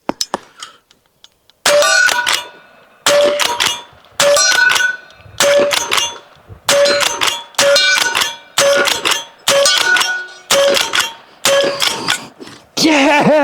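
Rapid pistol shots ring off a steel gong target in a series of about ten sharp cracks, each followed by a bright metallic clang and short ringing decay, loud and close with brief gaps between strings of fire.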